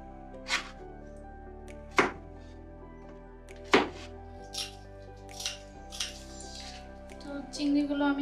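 A knife chops zucchini into large pieces on a board, several distinct thunks spaced a second or so apart, close and fairly soft, over a quiet kitchen hum with light handling sounds between cuts.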